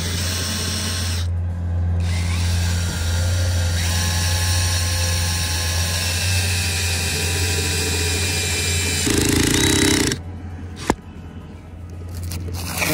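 A power driver runs stainless steel screws into a MAXXFAN dome fan on a Jayco Terrain RV, a loud sustained whirring drone that shifts pitch, stops abruptly near the end, then gives way to a sharp click and light handling.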